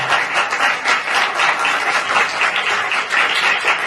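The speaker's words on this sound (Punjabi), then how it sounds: "ਇੱਕ ਵਾਰ ਜ਼ੋਰ ਦੇ ਨਾਲ ਤਾਲੀਆਂ ਵਜਾ ਕੇ ਪ੍ਰਭੂ ਦਾ ਧੰਨਵਾਦ" Church congregation clapping loudly in thanks to the Lord, a dense steady wash of many hands applauding together for several seconds, no voices on top.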